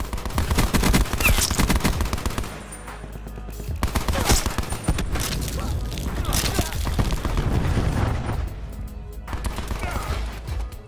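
Gunfire in Call of Duty Blackout on the Alcatraz map: loud bursts of automatic fire and sharp shots, with a few booms, broken by short pauses while a player talks.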